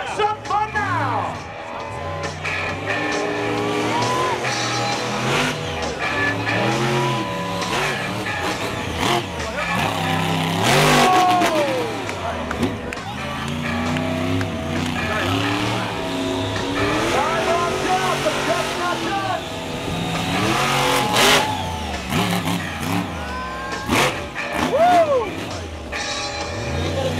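Bulldozer monster truck engine roaring and revving through a Monster Jam freestyle run, with repeated rising and falling revs, loud and close, under arena commentary.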